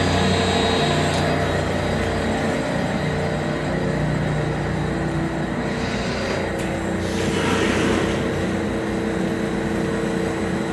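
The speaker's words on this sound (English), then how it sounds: "But now we're really spinning with the prop mixer." A prop mixer spins inside a containerized dry polymer system, giving a loud, constant mechanical roar and hum with steady motor tones that hold unchanged throughout, plus a faint clank partway through.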